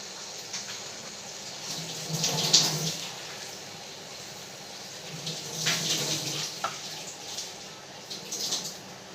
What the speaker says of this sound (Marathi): आता दोन तीन पाण्याने चांगलं धुवून घ्यायचं आणि पिळून घ्यायचं